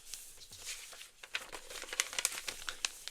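Paper crinkles and crackles in short, irregular bursts as a sheet is folded and crumpled by hand, close and fairly quiet, with no voices.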